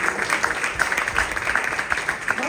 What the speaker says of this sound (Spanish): Si desea dar una ofrenda de palmas, al Señor le puede dar.